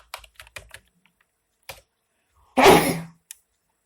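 Keys tapped on a computer keyboard in a few quick, light clicks, a pause, then a single tap, followed by a brief loud throat clearing and one more click in a quiet room.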